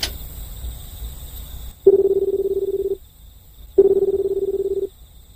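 Two steady push-button tones from a public phone being dialed in a Japanese video game, each about a second long with a short gap between, loud and clear over faint background music.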